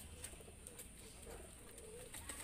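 A pigeon kept as a pet bird gives a few faint, soft coos close by against a quiet, hissy background.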